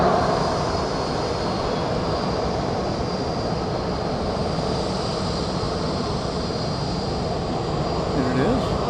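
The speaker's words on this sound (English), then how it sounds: "Southwest Flight 2700 from Sacramento, California is about to come into view." A Southwest airliner arriving at Dallas Love Field gives a steady, loud jet engine roar that fills the whole stretch, with a high whine on top and some voices faintly beneath.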